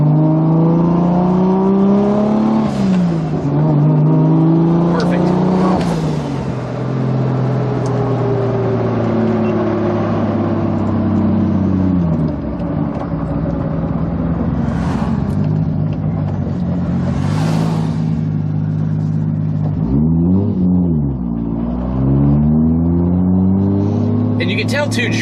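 A Toyota Supra with a 2JZ engine and T56 Magnum F gearbox pulls through the gears, its engine note rising under acceleration then dropping at each shift, heard from inside the car as a loud, close drone with several distinct gear changes.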